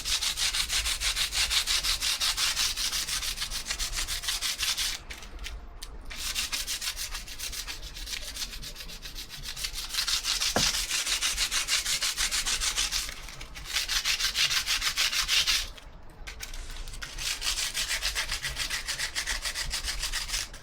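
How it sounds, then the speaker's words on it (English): Tin foil rubbed hard into pitted aluminium on a Harley, giving a continuous, close, loud scratchy rubbing with a rapid back-and-forth rhythm and a few short pauses, with no talk. "It's rubbing tin foil, silver foil, into pitted aluminium."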